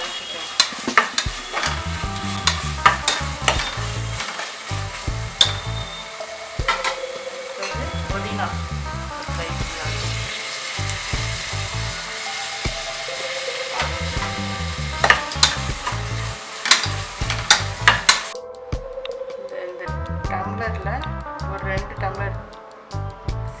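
Masala for mushroom biryani stir-fried in a pan, a continuous sizzle with repeated rhythmic spatula scrapes and clinks, someone talking over the cooking throughout.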